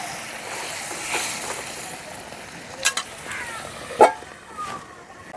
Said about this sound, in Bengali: সামান্য একটু জল দিয়ে মশলাটা ঢেকে কষিয়ে নেব।